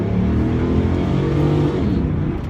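A car with a half-rebuilt transmission, left with only first and second gears, accelerating hard across a road; a loud, close engine roar with harmonics rising in pitch over a couple of seconds, no talk.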